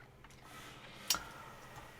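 A layered open hi-hat for a tech house track rings out once as a single sharp, bright hit that decays quickly over a quiet backdrop.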